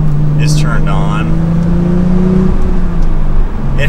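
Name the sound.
Porsche 911 Carrera T engine and exhaust in sport mode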